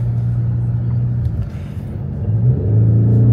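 A BMW 840 engine hums at a low, steady drone from inside the car, rising slightly toward the end as if building revs, with a brief voice faintly underneath.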